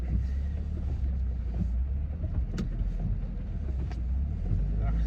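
A car on a wet road on a rainy Sunday drive, with steady close low engine and tyre rumble and a soft hiss of spray running throughout.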